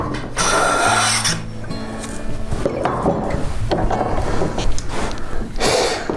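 A file rasps against the edge of a wooden cross being shaped, close and loud, in repeated rough strokes with brief pauses between them.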